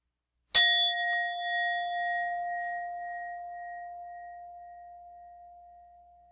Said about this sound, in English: I will begin and end the practice with the sound of a singing bowl.